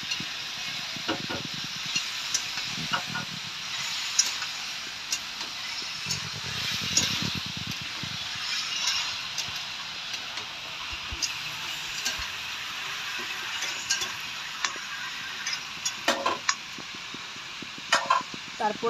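Chopped onion fries and gets stirred with meat in a pot for a coriander-leaf meat dish, giving a steady close sizzle and hiss with scraping stir strokes, a voice heard intermittently.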